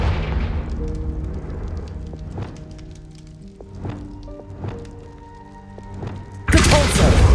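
Confringo explosion spells blasting in the Hogwarts Legacy video game, several dull booming thuds spaced a second or so apart over a low rumble, ending in a loud burst, with game music in the background.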